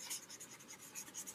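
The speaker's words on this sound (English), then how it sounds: "And this is a calligraphy pen. Now you can actually write something." A calligraphy pen scratches across a journal page, writing in soft, quiet, continuous strokes with faint rhythmic rasps and no voices.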